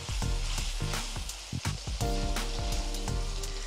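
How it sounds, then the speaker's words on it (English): Vegetables sizzle steadily in a hot pan, a crackling hiss with occasional clinks of a utensil stirring, close and continuous. "So we've got the vegetables frying up a little bit."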